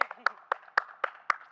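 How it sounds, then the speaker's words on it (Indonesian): Several sharp handclaps from a small group, evenly spaced about a quarter second apart, close and moderately loud amid background chatter at an Indonesian TV show taping. "Kasih tepuk tangan dulu buat Reva."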